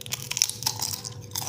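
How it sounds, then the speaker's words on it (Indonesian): Close, crisp crunching bites into peanut and anchovy peyek crackers, Medan style, a rapid series of sharp brittle cracks over about a second and a half with no talking. "kita tes kriuk"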